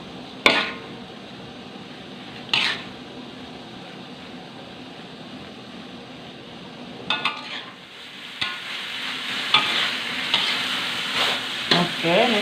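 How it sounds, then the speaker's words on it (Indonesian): Kue cucur batter is stirred in a pan or bowl, with a few sharp scraping strokes standing out against a soft background hiss, growing busier toward the end. "Gaul sampai merata"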